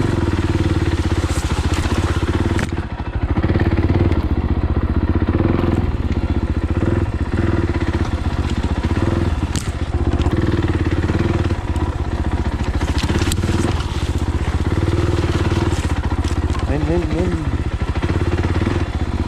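A Fantic Caballero 500 Rally motorcycle being ridden, its engine a loud, constant drone close by for the whole stretch, with wind buffeting and a rider's voice over it.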